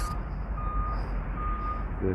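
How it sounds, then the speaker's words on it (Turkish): A reversing vehicle with steady backup beeps sounding outdoors at low level, the repeating tone sitting under a rumbling background hum, with a brief voice fragment near the end. "Araba geri geri geliyor."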